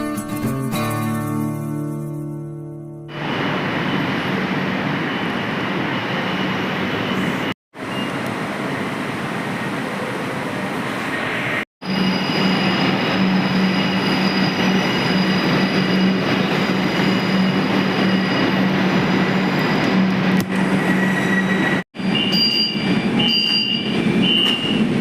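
Kolkata Metro Orange Line train running: a loud, steady rumble and rattle of wheels and carriage, interrupted by a few short cuts, with a faint high tonal whine in the later part and no talking.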